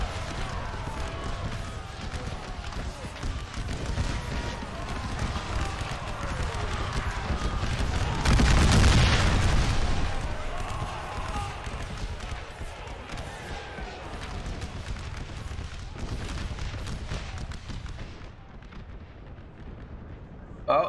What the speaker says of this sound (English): Volleys getting exchanged.